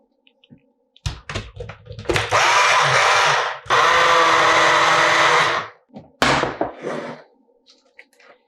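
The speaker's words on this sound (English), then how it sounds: "Now you can see the Ninja Fit blender was perfect for that." A Ninja Fit blender blends canned tomatoes with salt, cumin and cilantro for habanero salsa, running loud in two long whirring bursts with clunks and brief pauses between them, then a shorter final burst.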